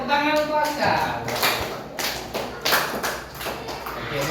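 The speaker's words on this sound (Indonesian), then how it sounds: "tepuk tangan untuk Askar" Primary school pupils in a classroom clap in short, uneven bursts of a few claps each, close by, with children's voices mixed in.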